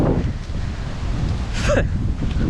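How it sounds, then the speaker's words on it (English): Gusty wind from an approaching storm buffets the microphone on the Dora Canal, with a steady low rumble and a brief whooshing gust near the middle. "It is so windy. That storm is coming in quick."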